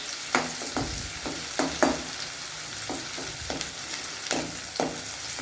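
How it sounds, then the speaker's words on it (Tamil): Chopped green chillies sizzling steadily in oil in a pan while a spoon scrapes and stirs in repeated sharp knocks, no voices. "பொடியாக நறுக்கி வச்ச பச்சை மிளகாய் போட்டுக்கலாம். நல்லா ஒரு 2 நிமிஷம் வதங்கட்டும்."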